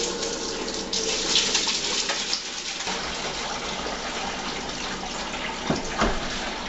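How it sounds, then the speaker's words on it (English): Peach wine is poured steadily from a bucket through a strainer, splashing and gushing continuously into a container for several seconds, with no voices. "So you just take your bucket and you just kind of pour it in there slowly"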